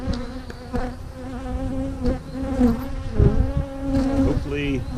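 Honey bees buzz continuously in a beeyard during nuc setup, a close, dense droning swarm sound with fluctuating intensity and no talking.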